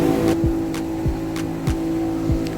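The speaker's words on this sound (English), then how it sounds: "our captain is doing his job and he's revving up the boat" A small boat's engine drones on the Demerara River, a steady low hum with repeated rising surges roughly every half second, close and moderately loud with no talk over it.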